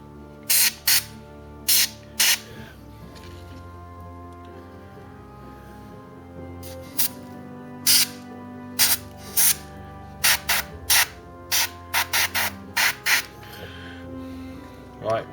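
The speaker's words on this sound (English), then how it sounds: "to spray up the side of your vehicles." Repeated short bursts of hissing spray, some quick and some longer, start and stop irregularly against a quiet background with a low hum.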